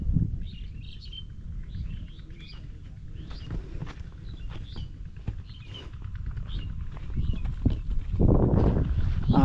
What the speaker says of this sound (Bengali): অনেক পাখির কিচিরমিচির শব্দ